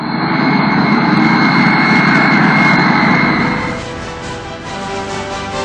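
A Malaysia Airlines passenger jet, flight MH17, taking off from Amsterdam, a loud sustained roar of jet engines with a steady whine that eases and fades slightly toward the end.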